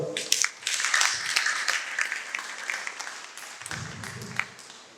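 An audience claps together at a breast cancer awareness talk, a dense burst of applause that swells, then thins and tapers off over several seconds.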